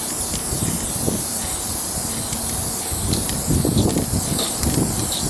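A spray paint can being shaken so the mixing ball rattles inside, heard as steady close hissy rattling with rhythmic clacking pulses, no talking.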